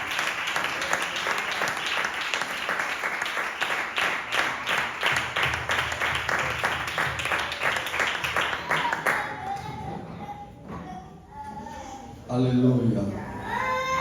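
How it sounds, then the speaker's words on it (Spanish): A church congregation breaks into loud, dense applause that runs steadily for about nine seconds and then fades out. Voices and other sounds follow once the clapping ends. "un fuerte aplauso"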